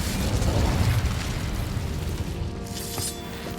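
Incendio fire spell cast in Hogwarts Legacy on PS4, a loud roaring burst of flame that swells at once and then rushes on steadily with a crackling tail.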